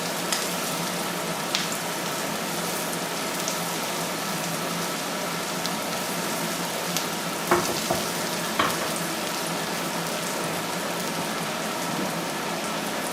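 Garlic and mushrooms sizzle in a frying pan, a steady, close crackling hiss that runs throughout with a few louder pops and faint stirring clicks, no voices.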